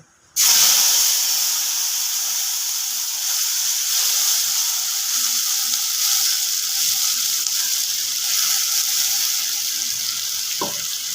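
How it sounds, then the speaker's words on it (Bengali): A sudden loud hiss as wet spice paste hits a hot wok for a fish curry, settling into steady sizzling and bubbling up close, with a brief clink near the end. "এবার আমি কড়ার মধ্যে পেস্টটা ঢেলে দেবো"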